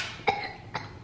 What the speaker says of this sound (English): Don't cough over your food.